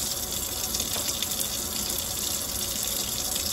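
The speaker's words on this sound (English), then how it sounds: "to turn this off, the faucet." Faucet water running steadily into a sink during hand washing in a nursing assistant class, a continuous close hiss and splash at an even level with no breaks.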